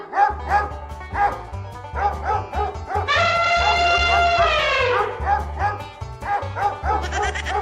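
Dogs bark repeatedly and close by in quick, loud volleys, and a long howl-like tone rises over the barking partway through before the barks resume.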